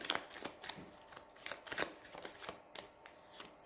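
Tarot cards handled and laid out during a reading, giving soft, repeated papery flicks and shuffling rustles, close and quiet, with no talking.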